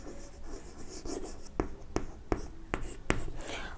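A pen scratches across paper as a geometry proof is written by hand, with soft continuous scribbling and several sharp taps at roughly even intervals, close and quiet.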